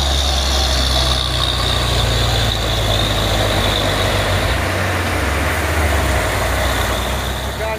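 A heavy tanker truck engine drones steadily and loudly on an uphill road, its deep rumble shifting slightly as it works under load, with no talking.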